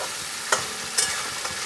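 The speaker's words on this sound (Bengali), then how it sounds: "এভাবে কষিয়ে নিতে হবে যাতে কাঁচা গন্ধটা পোস্ত চলে যায়।" Poppy seed paste ground with green chilies stir-fries in a pan for potol posto, a soft steady sizzle broken by a couple of brief scraping strokes of the spatula.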